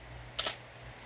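A 1981 Canon New F-1 35mm SLR fires its shutter at flash sync speed, giving one crisp, close mechanical clack with a short mirror rattle in an otherwise quiet room.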